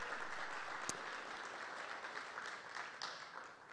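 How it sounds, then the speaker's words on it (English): An audience at a dance celebration claps for the stream team and tech crew, a faint, distant, steady patter of applause that holds throughout, with one sharp knock partway through. "Can we give a big round of applause for the stream team and the tech crew?"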